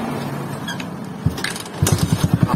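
A motorcycle engine with a faulty starter button sputters and then catches, settling into a rapid, rhythmic putt-putt idle close by.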